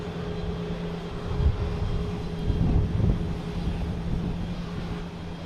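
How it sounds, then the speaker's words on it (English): A Japan Airlines airliner in oneworld livery flying overhead near Boston Logan, a low, moderate engine rumble with a faint steady hum, rising in two brief swells. "have Japan Airlines flying overhead here"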